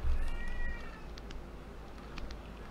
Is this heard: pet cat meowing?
yes